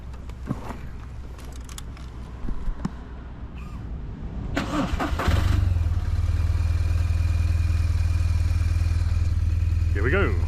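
A 17-year-old BMW R1200GS Adventure motorcycle engine starts up partway through and then drones loud and steady while riding, over a quieter stretch of rumble and clatter before it.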